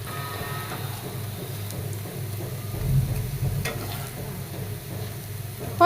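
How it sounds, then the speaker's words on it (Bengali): Banana pieces coated in egg fry over low heat in hot oil, a steady close sizzle with a low bubbling hum that swells briefly midway, no talking. "আমি একটা একটা করে দিয়ে হালকা করে আঁচে ভেজে নেব"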